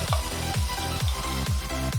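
Sliced shallots and garlic sautéing in a pan give a continuous close sizzle, broken by regular rhythmic scraping or stirring strokes about every half second, with no talk.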